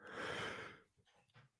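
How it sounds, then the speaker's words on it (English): One short, breathy sneeze bursts out loudly, followed by a few faint sniffs and breaths. "I'm gonna sneeze."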